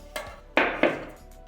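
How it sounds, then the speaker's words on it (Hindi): A spoon clinks against a metal bowl as yogurt is added for a chicken roast masala: three sharp metallic knocks close by, in an otherwise quiet kitchen. "इसके अंदर सबसे पहले मैं डालूंगी दही।"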